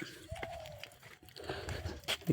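A dog gnaws on cooked chicken at a village home, giving a short run of close, wet crunching and tearing bites with small pauses between them.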